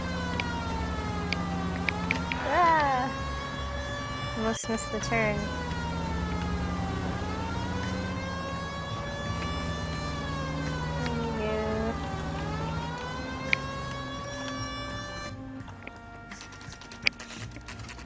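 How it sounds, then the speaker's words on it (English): Police car siren in the L.A. Noire video game wails in long rising and falling sweeps for most of the clip alongside engine noise and a crash or two, with someone briefly speaking near the start. "Siren."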